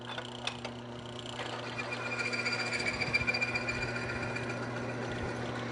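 A metal lubrication test machine runs steadily on base oil treated with Power Up additive, giving a continuous mechanical whir with a low, even hum and faint ticking, close and alone, with no talk.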